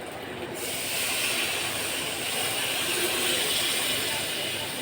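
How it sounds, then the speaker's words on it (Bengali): Water poured into a pan of cooking fish, likely Bhola fish, sets off a loud, steady hiss that starts abruptly and keeps sizzling close up without letting off. "এই যে এখন আমি এতে জল দিয়ে দেবো।"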